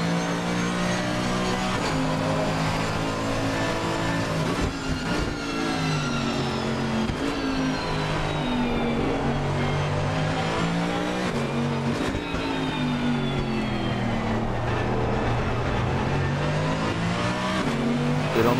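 A GT3 race car in the Assetto Corsa Competizione video game, driving onboard through the last sector of Silverstone: a loud, continuous engine note climbs and drops through gear changes, with brief tire squeal and no talking.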